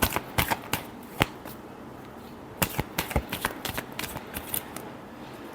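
Tarot cards being shuffled by hand, sharp riffling snaps and soft flicks in irregular bursts, close and fairly quiet with brief pauses between runs.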